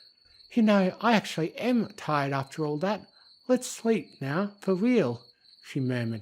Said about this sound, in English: listening to the chirping of crickets outside